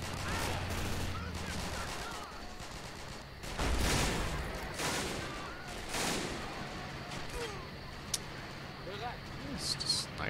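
Sniper and rifle gunfire in a war video game, with bursts of muffled shots and booming reports scattered through the clip beneath people talking, moderately loud, with some distant rattling fire.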